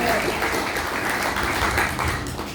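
A church congregation at a Christian meeting hall applauds together, a dense, loud burst of clapping that fills the room throughout.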